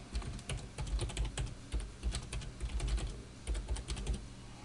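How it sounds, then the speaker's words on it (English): Rapid, uneven clatter of keys being typed on a computer keyboard, close and steady for several seconds with brief pauses between bursts; no voices. "So I'll type out some text here."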